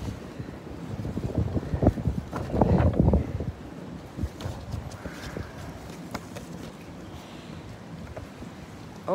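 Gusty wind buffets an outdoor microphone in the Maldives, with low rumbling bursts that swell loudest around the second and third seconds, then settle into a steadier, softer roar with scattered thumps.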